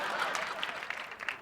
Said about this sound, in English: One guy is applauding this down here.